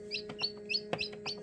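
Newly hatched chicken chick in an incubator, peeping in quick repeated high chirps, close and clear with no talk.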